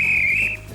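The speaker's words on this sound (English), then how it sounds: "the whistle's blown and our players prepare for another round" A referee's whistle blown once, a loud steady high tone lasting about half a second at the start of a round of a competition, then cutting off to quiet room tone.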